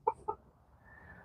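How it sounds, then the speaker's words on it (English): Silkie chickens clucking in their run, two short close clucks in quick succession followed by quiet outdoor background. "these little silkies have been living in the quail shack here and behind it for a while"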